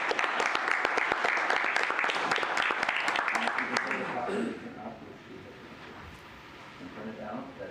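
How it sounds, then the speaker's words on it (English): Audience applause at a city commission meeting, a dense wash of clapping for about four seconds that fades into quieter room noise and low voices. "give them a round of applause"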